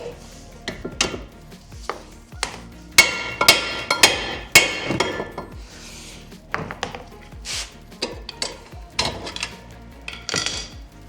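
A hammer strikes a nut threaded onto the end of a wheel bearing bolt on a Ford Focus, giving a dozen or so sharp, close metallic knocks in irregular bursts with brief pauses between them.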